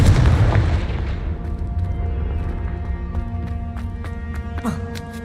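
Confringo fire spell explosions in the Hogwarts Legacy video game: a loud booming blast opens, then a sharper burst lands near the end, over steady tonal game music.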